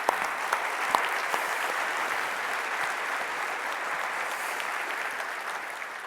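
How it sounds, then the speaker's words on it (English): A conference audience applauds a demo team at a business software event, sustained even clapping from a large crowd that holds steady for several seconds before easing slightly. "Please give them a warm round of applause."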